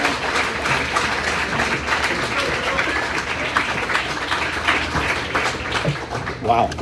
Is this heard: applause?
yes